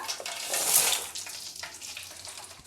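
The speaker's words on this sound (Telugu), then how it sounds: "ఇదిగోండి పోపు కూడా లో ఫ్లేమ్ మీదే వేపుకుంటే మనకి మాడకుండా బాగుంటాయి" Tempering spices with dried red chillies sizzle and crackle in hot oil over a low flame, a bright hiss swelling early then settling into softer popping, close by and without talk.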